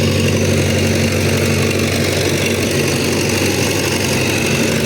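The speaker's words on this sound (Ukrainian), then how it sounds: "старенький тракторець." A small old tractor engine runs steadily up close in a vegetable garden, a loud continuous chugging drone with no pauses.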